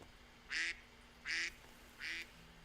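Three evenly spaced duck quacks, each short and nasal, ring out faintly over a low steady background hum with no talk.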